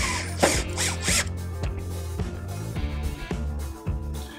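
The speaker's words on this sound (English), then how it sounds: "we're going to secure them with our 1-inch screws provided in the hardware pack" Screwdriver or drill driving 1-inch screws through a plastic railing glass strip, giving a run of ratcheting, clicking mechanical bursts with a low motor hum underneath, close and steady.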